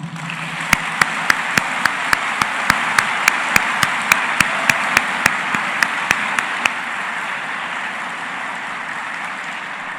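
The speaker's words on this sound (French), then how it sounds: "mérite d'être saluée par un tonnerre d'applaudissements" Applause at a university graduation ceremony, a dense steady crowd clapping with sharp regular percussive hits punctuating the first seven seconds, then continuing alone as a sustained wash.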